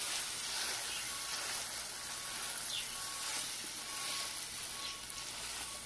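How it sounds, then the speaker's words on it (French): Potato galettes with onion and mushroom, bound with flour and egg, frying undisturbed in a pan, giving a steady close crackling sizzle with faint popping throughout, no talking. "il faut le laisser rôtir sans le tourner, sans le toucher"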